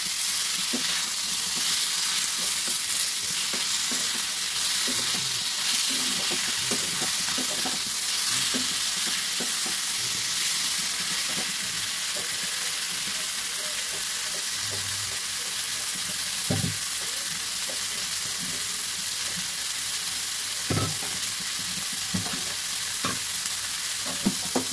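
Chopped tomato fries in a pan under a constant loud sizzle, with repeated scraping and clicking from a spatula as it is stirred throughout.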